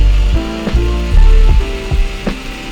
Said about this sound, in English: I need to use a deep bore hole saw, which can cut through the entire depth of the leg dowel